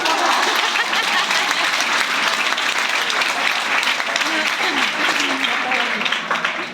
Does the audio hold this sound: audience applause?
yes